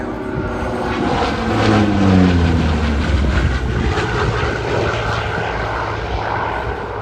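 A Hawker Sea Fury fitted with a Skyraider engine and four-blade propeller flies past at an airshow, its loud, steady piston-engine drone filling the air with a slowly shifting pitch as it passes.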